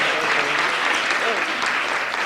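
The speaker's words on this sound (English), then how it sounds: "So give them a round of applause," An audience at a youth debate awards ceremony claps steadily and fairly loudly for a third-place team, a dense, even patter that holds throughout.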